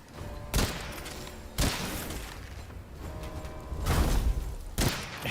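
Gunfire in the first-person shooter Witchfire, with several heavy, booming shots fired at intervals of about a second over a constant rumbling game background, loud and close.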